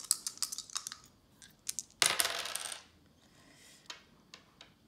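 Two dice clatter across a hard surface in a quick run of sharp clicks, then a louder burst of rattling as they tumble and settle, close by with no talk.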